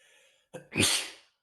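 A single close sneeze, a short sharp intake followed by a loud explosive burst, after a brief quiet hum.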